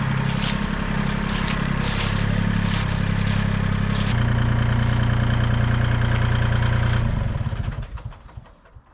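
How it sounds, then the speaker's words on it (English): A Kubota L2501 hydrostatic tractor with an LA 525 loader and Land Pride box scraper runs steadily at close range, its engine note shifting partway through before fading out near the end, with no talk. "Kubota hydrostatic L2501, LA 525 loader, Land Pride box scraper"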